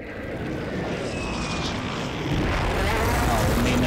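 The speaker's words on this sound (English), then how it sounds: "I'm about to crash the helicopter." A helicopter flies in the video game Warzone Resurgence, its engine and rotor giving a steady, loud drone that swells slightly toward the end, with no other sounds over it.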